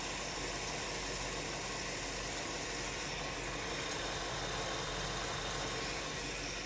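An old farm engine idles steadily in neutral on a sloped spot, a smooth continuous purr with broadband hiss, close and even throughout with no talking.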